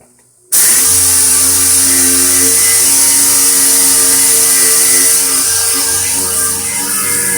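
A power sander works over the rear gate of a GMC Terrain during repair, starting abruptly after a short silence and then whirring loudly and steadily close by without letup or talk.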